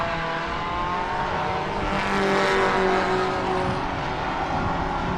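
Vintage race cars, including British cars and Formula V racers, passing at full speed at the 2012 Spokane Festival of Speed, a steady loud engine roar with a rising whine as one car sweeps by, no talk.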